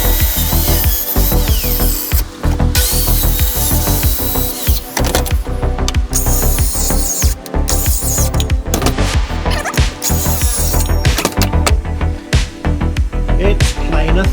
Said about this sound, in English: It's planer thicknessing time.